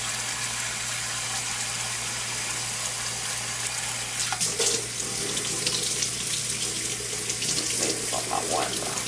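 Water from parboiled ox tails poured off into a kitchen sink, a steady loud rushing stream that grows splashier and more gurgling partway through, with a low hum underneath.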